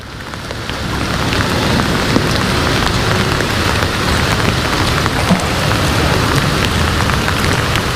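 Steady heavy rain hisses and patters on surfaces all around at a fishing spot, loud and continuous with no talking.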